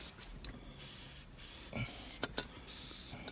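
Several short bursts of aerosol spray hiss onto the sunroof fixing points of a BMW E34, close and fairly loud, separated by brief pauses.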